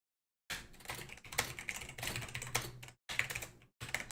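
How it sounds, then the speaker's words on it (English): A loud computer keyboard clatters with rapid, uneven bursts of typing, dense keystrokes broken by a couple of brief pauses, close and without any voice. "This is the first time I've ever wished that my keyboard wasn't so loud because I know you guys can hear it."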